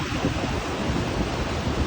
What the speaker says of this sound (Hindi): अब इसमें पानी चल रहा है।